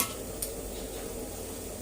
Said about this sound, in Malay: So paru ni korang kena rajin kacau. Jadi dia goreng, dia masak tu sekata.